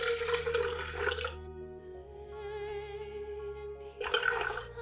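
Water running from a tap into a measuring vessel while developing film at home, a loud splashing gush that stops, leaves a quiet ringing hum for a few seconds, then gushes again.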